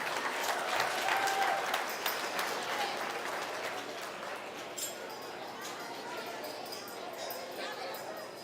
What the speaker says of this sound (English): Let's give these kids a huge round of applause.